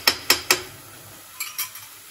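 A spoon clinks three times against a pan, then makes softer scraping taps while stirring spices with turmeric and ghee over low heat, close and fairly quiet.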